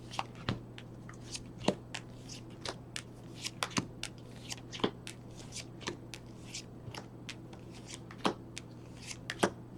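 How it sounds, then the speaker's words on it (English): Playing cards being shuffled up close, soft riffling punctuated by sharp snaps and taps at uneven intervals over a low steady hum. "I think that's a good shuffle."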